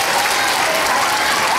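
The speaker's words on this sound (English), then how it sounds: "can we give Jesus a hand clap right now?" Short burst of audience applause, a dense crowd of hand claps at steady loudness with no voices over it.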